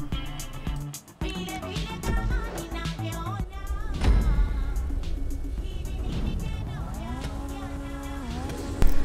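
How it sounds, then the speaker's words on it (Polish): Tuned car engine and exhaust in the GTA V video game, revving and droning with rising and falling pitch sweeps and a sharp burst at the end, mixed with game music. "Żebyś widział, jakie ona ma wydechy."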